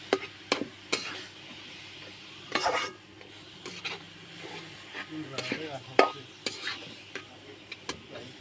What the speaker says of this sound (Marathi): असे पलटून घेते त्याला मस्त असे